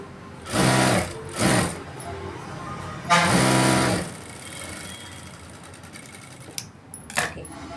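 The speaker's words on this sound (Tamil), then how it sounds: "இப்படி மடக்கி இந்த ஓரத்தில் ஒரு தையல் போட்டு" A sewing machine stitches along the folded edge of blouse fabric in three loud bursts, two short runs and then a longer one, each followed by quiet stretches with a few small clicks and faint handling noises.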